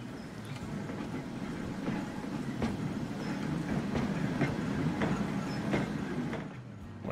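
Electric trams in Transport Fever 2 rumble along steadily with a regular clickety-clack of wheels over rail joints, a moderate, continuous rolling sound.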